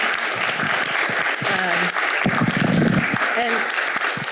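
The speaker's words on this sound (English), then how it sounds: "thank you so much, this terrific panel. Another round of applause." A workshop audience gives a sustained round of applause for a panel, with a few voices murmuring through the clapping.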